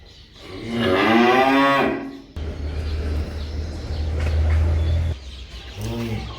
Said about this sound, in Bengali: এই হলো আজকের 2 নাম্বার একটা হলিস্টাইন ফ্রিজিয়ান বকনা বাছুর